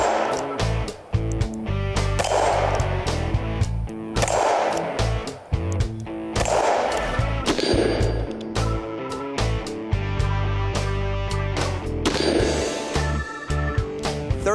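Shots from a Kimber six-shot .357 Magnum revolver ring out as a series of sharp, loud reports about every two seconds, each followed by a brief ringing decay, over a steady low hum.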